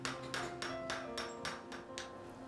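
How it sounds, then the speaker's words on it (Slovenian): Blacksmith hammers ring out in a traditional forge, striking metal in a steady rhythm of about eight clanging blows, bright and close, with a humming resonance beneath. "odmeva žvenk kladiv."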